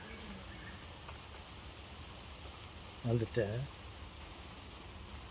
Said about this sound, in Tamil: ஒரே மழையாக இருக்குது.